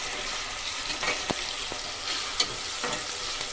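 Ginger garlic paste fries in a pressure cooker with a continuous bright sizzle, punctuated by a few soft clicks and scrapes of stirring.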